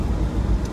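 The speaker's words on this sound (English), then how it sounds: "So we're going to be in the car quite a long time right now." Car driving away from an animal shelter near Los Angeles, a steady low engine and road rumble that stays close and even throughout, with no talk over it.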